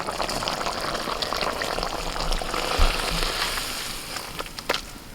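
Continuous hissing sizzle of bitter gourd frying in hot oil, close and fairly loud, with occasional pops and crackles.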